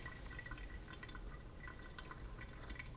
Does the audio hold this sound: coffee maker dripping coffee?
yes